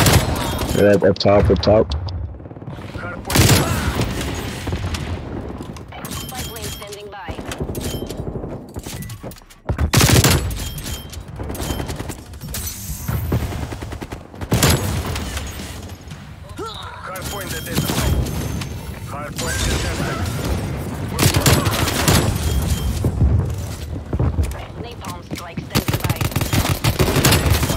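Heavy close-range gunfire from Call of Duty Black Ops Cold War, with a Pellington and dual 1911 pistols: repeated rapid bursts and single shots with brief gaps throughout, under frequent shouted player talk.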